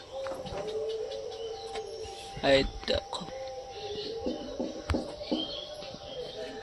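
Pet birds kept in a cage call with scattered chirps and short coos in a quiet setting, heard between a man's brief spoken words.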